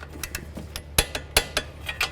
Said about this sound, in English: We'll torque it to 30 foot-pounds.